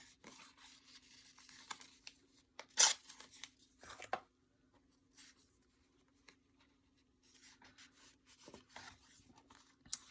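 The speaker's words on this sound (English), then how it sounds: "Let's tear it off and fold it under." Paper or card for a scrapbook page is torn and handled close up, with quiet rubbing and scraping between a few sharp, brief ripping bursts.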